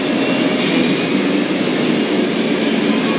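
An airliner jet engine roars loudly and steadily, losing power, with a continuous broadband rush and a high whining tone drifting slightly throughout, no voices.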